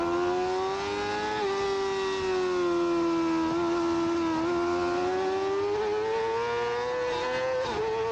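A Yamaha R6 motorcycle engine wails at high revs during an amateur open sprint race lap, a sustained loud whine that rises and dips slightly with throttle changes, heard up close from the bike.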